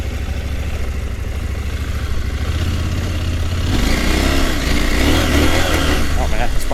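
A KTM 890 Adventure R motorcycle on Motoz Tractionator tires riding over dirt, its engine a steady close rumble that grows louder and rougher partway through, mixed with wind noise and a voice.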